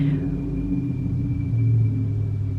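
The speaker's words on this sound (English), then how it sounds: "that's a really loud car" A loud car rumbles past close by, a deep steady roar with engine hum that swells slightly before easing off.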